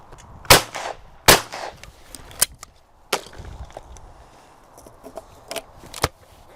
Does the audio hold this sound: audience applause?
no